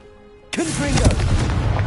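A Confringo blasting curse in Hogwarts Legacy bursts abruptly after a quiet moment, a loud booming explosion with crackling, whooshing spell effects that carry on for over a second.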